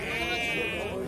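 A tall four-toothed ram at a busy livestock market in Kurshab gives a sustained, wavering bleat lasting about a second, with crowd chatter and talk running underneath.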